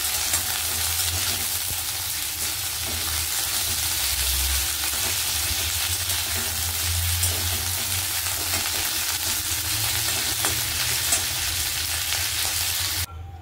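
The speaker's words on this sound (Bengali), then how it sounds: "দেখো, আমি ফুলকপিগুলোকে লাল লাল করে ভেজে নিচ্ছি।" Cauliflower florets fry in hot oil with a steady, loud crackling sizzle that continues unbroken for over ten seconds, with occasional stirring clicks, before cutting off abruptly at the end.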